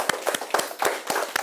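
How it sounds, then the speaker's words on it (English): A small audience applauding, with a handful of uneven, sharp claps close by and no talking. "A round of applause."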